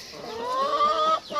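Ducklings on a farm give a short run of high, thin peeping calls, fairly close and clear over a quiet outdoor background.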